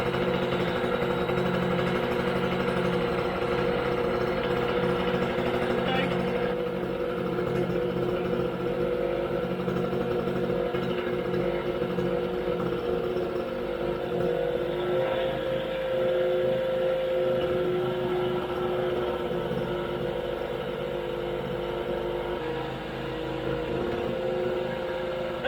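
A small portable mini-generator engine runs steadily at a constant hum, loud and close, with no talking over it, and it keeps droning through the whole stretch without a clear stop.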